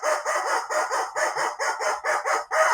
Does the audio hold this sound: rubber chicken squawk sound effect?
yes